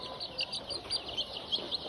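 Young chicks, one with spraddle legs, peeping in a brooder, with faint rapid high chirps close by throughout a short stretch and no talking.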